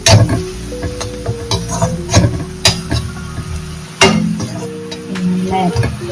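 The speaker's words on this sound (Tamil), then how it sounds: "நல்லா மேஷ் ஆகிற அளவுக்கு நல்லா வதங்கணும்." Vegetables sautéing in a home kitchen pan, stirred with a utensil: steady sizzle with repeated scraping and clinking strokes against the pan, close and fairly loud, no talking.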